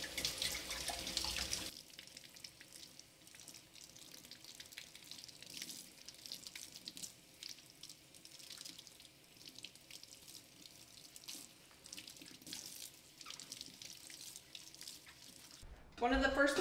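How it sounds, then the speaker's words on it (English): Onions freshly harvested from the garden are rinsed under a running kitchen faucet, a steady close splash of water that runs alone for about fifteen seconds, opening and ending with brief louder gushes. "I'm gonna wash up my onions that I harvested."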